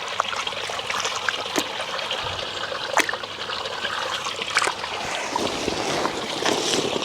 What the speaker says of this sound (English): Now I am stirring up the pond a little bit again, moving this gravel